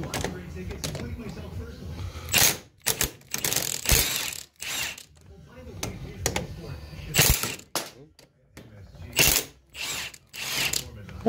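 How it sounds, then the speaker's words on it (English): An impact gun removes a 15mm bolt on a 1990 Mustang GT, firing in several loud hammering bursts of a second or so, separated by pauses, with someone talking over the quieter stretches. "these turned out to be a 15mm bolt right here, and I'm just using a impact gun."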